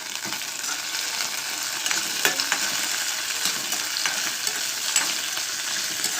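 Garlic cloves and a small piece of ginger frying in a pan for a Telugu pudina pachadi, a close, steady sizzle with occasional crackles and stirring scrapes, without speech.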